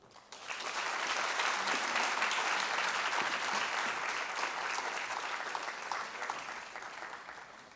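An audience at a university lecture breaks into warm applause for the arriving speaker, the clapping swelling quickly and staying dense and even before easing slightly toward the end, with no talk over it.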